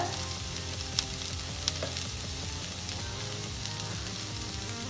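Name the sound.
onions and green peas frying in a pan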